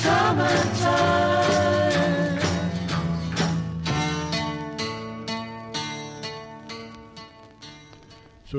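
A 1966 song plays on its own, with harmonic sung vocals over piano and guitar and a steady rhythmic beat, at moderate volume and fading slightly toward the end.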